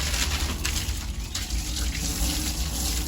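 Tap water runs steadily while a new aquarium tank is rinsed out, a continuous close splashing wash with faint birdsong in the background.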